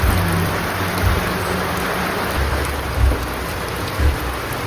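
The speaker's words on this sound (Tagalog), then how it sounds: "Grabe lakas ng ulan, no?" Heavy rain pouring down on a rainy day at home, a dense, loud, continuous hiss of rainfall with no break and no voices.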